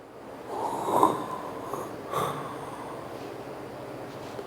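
A voice imitates breathing with a couple of breathy exhalations, one around the first second and a softer one a second later, close and fairly quiet, followed by near silence.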